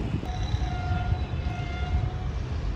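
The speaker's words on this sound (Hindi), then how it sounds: "पहली ट्रेन आ रही है 18 डाउन मिल्लत एक्सप्रेस" 18 Down Millat Express arriving at Malir railway station in the evening, a steady heavy rumble of the train with a sustained horn tone rising above it, continuous and fairly close.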